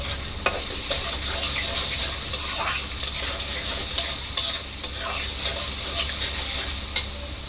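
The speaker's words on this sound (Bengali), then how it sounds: "পেঁয়াজটা আমার বাদামি রং করে ভেজে নেব।" Chopped onions with a pinch of salt fry in a pan until browned, a steady close sizzle broken by the scrape and clatter of stirring, with no voices.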